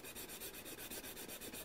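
A file rasps along the edge of a fiberglass circuit board in quick, regular back-and-forth strokes, about ten evenly spaced, close and steady, with no voices.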